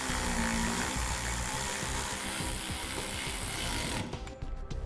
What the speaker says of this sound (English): Go ahead and tighten those down using a 10mm socket.